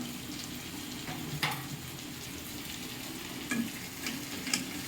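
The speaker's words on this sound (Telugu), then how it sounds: "వీటన్నిటిని మిక్స్ కొట్టాలి గట్టిగా." Chicken curry ingredients and spices are mixed by hand in a cooking pot, giving soft scraping and stirring sounds with a few sharper knocks, quiet and close against a faint background hiss.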